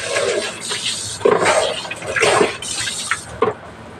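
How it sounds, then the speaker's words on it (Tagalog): Water is poured into a cooking pot of tinola with sotanghon noodles and patola, a continuous splashing fill with a few louder gushes over about four seconds, close and without talk. "Dagdagan natin ng tubig"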